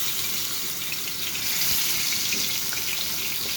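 Catla fish frying in hot oil gives a steady, dense sizzling hiss that holds at an even level for the whole stretch, with no voices over it.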